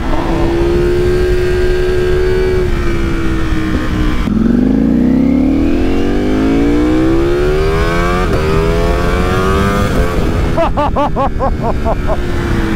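A 2023 Ducati V4R sport motorcycle engine revs hard and loud, pitch climbing and dropping through several sharp accelerations, close by and continuous.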